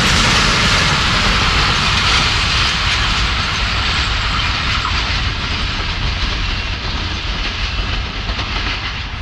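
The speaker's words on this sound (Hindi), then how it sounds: "AG 36025 लीड कर रहा था शाह हुसैन एक्सप्रेस को।" Pakistan Railways' Shah Hussain Express, led by locomotive AG 36025, passes at speed near Jhimpir with a loud, continuous broadband roar and rumble of wheels and cars that stays close and fades slightly toward the end.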